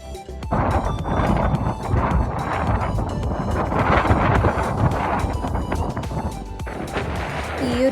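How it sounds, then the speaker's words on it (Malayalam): Strong gusting wind at a hilltop viewpoint in Nelliampathy roars and buffets the microphone continuously, loud and close, with no clear voices. "ഈ ഒരു കാറ്റ് എത്രത്തോളം ഉണ്ടെന്ന് ഈ ഒരു വിഷ്വലിലൂടെ നിങ്ങൾക്ക് മനസ്സിലാവും."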